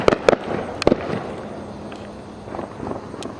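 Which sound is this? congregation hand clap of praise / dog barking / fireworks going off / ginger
fireworks going off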